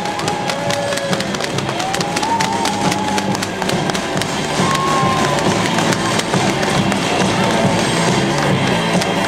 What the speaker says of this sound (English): Bang those boards, everybody.